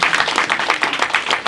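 A church congregation applauding, rapid dense clapping with pulsing swells, fairly close and steady throughout.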